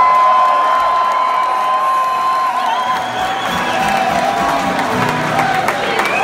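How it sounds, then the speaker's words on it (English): A crowd cheers and whoops at a concert on a spring 2017 tour, loud and continuous with high sustained tones and a roaring wash of voices throughout. "Give him a cheer there, boys."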